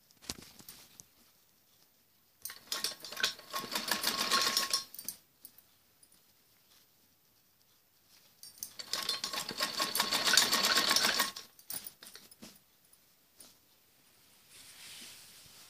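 Domestic sewing machine stitching piping along the edge of a padded blouse piece, running in two steady bursts of several seconds each with quiet pauses between, close and alone without talk.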